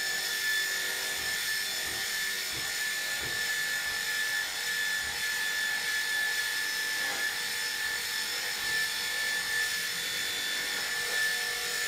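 Electric clippers fitted with a snap-on comb run steadily while trimming a Cocker Spaniel's coat, a constant faint buzzing hum with occasional soft rubbing strokes.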